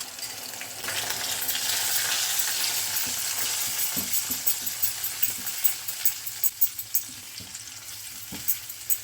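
Tomato, ginger and green chili paste hits a hot pan over high flame with a loud sizzle that fades, followed by repeated scraping and tapping of a spoon stirring the paste.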